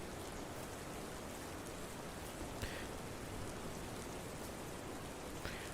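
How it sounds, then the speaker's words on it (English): Steady, soft rain falls continuously in the video game Gray Dawn, a constant hiss of drops with a couple of slightly brighter spatters and no voices. "you'll know you're on the right one if it's raining here"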